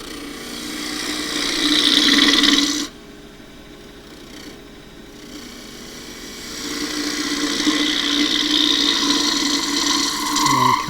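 A spindle gouge shear-cutting a wooden drawer knob on a lathe gives a steady, loud scraping hiss that stops for about two seconds, then resumes and continues to the end.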